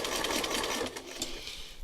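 An embroidery sewing machine stitches out a design, its rapid steady needle clatter running loud and continuous throughout with no talking.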